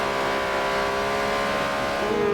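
Porsche Cayman GT4 Cup race car at Bathurst holds a sustained, harmonic-rich engine drone with the pitch rising slightly near the end, heard from onboard and moderately quiet.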